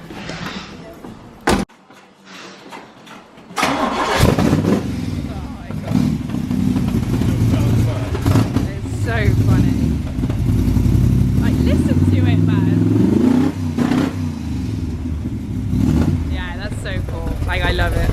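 A hot hatch car engine runs and revs close by, a steady throaty drone after a door thunk near the start, with people talking over it throughout.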